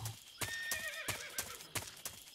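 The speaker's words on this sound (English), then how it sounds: "There's a horse." A horse in the video game Metal Gear Solid 3 neighs in a long, wavering whinny over steady clip-clop hoofbeats, moderately close and with no talking.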